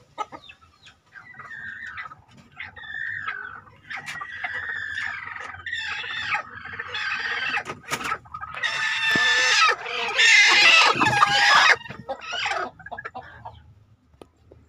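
Bangkok hens, some of them brooding, cluck continuously in a coop, their close calls building into loud, excited cackling squawks near the end, with no talking.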